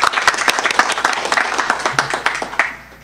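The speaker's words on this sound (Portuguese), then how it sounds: "Vamos aplaudir o Senhor Jesus." A church congregation applauds in praise, dense overlapping clapping from many hands, loud and lively before tapering off at the end.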